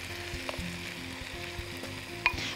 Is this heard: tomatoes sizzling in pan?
yes